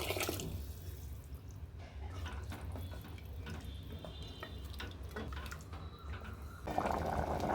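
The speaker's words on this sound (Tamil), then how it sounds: "கொண்டக்கடலை வேக வச்ச தண்ணியை சேர்த்துக்கிறேன்" Chickpea cooking water is poured into a simmering small-potato gravy, a soft continuous trickling and splashing that stays quiet and steady throughout, with no voices.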